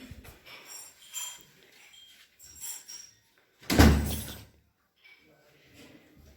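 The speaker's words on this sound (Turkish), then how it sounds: "Kapıyı kapatalım." An apartment's entrance door is pushed shut with one firm, loud thud midway, after soft shuffling and handling noises near the door; nobody speaks.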